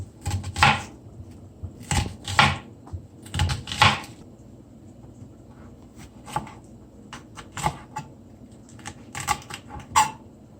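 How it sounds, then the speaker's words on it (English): An onion is chopped with a knife on a cutting board for Jamaican steamed callaloo, giving a series of sharp close knocks in irregular bursts with short pauses between them and no talking. "I'm gonna cut out my onion now."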